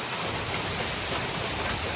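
Hail falls steadily during a passing storm front near Breckenridge, Colorado, a dense, even, hissing patter with no pauses and no voices.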